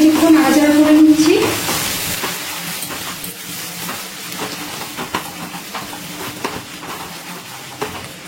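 Spice paste stirs in hot oil for a Bengali cauliflower and potato curry, starting with a loud hiss and whistle of steam, then settling into a quieter sizzle with occasional spoon clicks.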